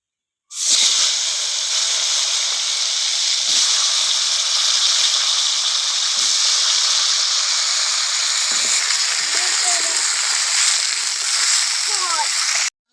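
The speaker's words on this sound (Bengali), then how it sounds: "এবার আমি আলুটা ভেজে নেবো" Potatoes fry in hot oil in a pan, a loud, steady hiss from start to finish at close range, with a few faint clinks toward the end.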